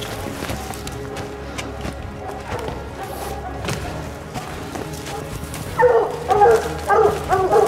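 Hunting hounds bark after treeing a lynx in the woods, with a burst of repeated close barks near the end over a steady outdoor background and some quieter movement earlier.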